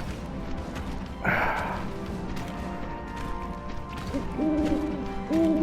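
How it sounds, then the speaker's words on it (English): An owl in Final Fantasy VII Rebirth gives a few soft, rounded hoots near the end, following a brief crashing burst earlier, over a steady ambient game background. "I know this owl."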